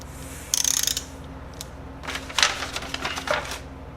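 A wrench ratchets while tightening bolts on a Yamaha FZ1 engine during a rebuild, giving loud, close bursts of rapid clicking separated by brief pauses, with no talking.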